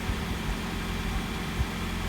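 A Toyota Corolla Cross engine idles with a steady low rumble, a constant drone with no talking and only a small bump near the end.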